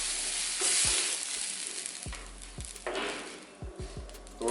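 Food searing in a pan gives off a loud, steady sizzle and hiss, with a few soft clatters and thumps of the pan and utensils along the way.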